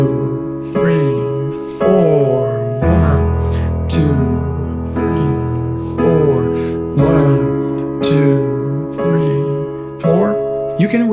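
Piano chord progression moving through inversions, sustained harmonic chords struck in a steady four-beat pulse, repeated several times, played alone and fairly loud.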